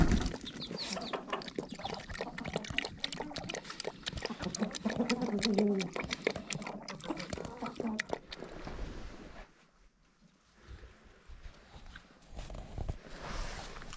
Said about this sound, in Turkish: Tavuklarla tanıştın mı?